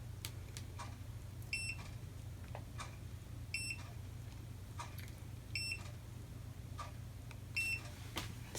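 An automatic curling iron's timer gives faint, high, regular beeps about every two seconds, with light clicks and a low steady hum underneath.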